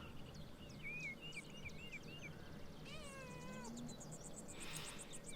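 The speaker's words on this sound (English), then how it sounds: "Pet the cat." A cat meows several times when petted in the medieval video game Pentiment, its soft rising cries set against a quiet outdoor ambience with faint birds.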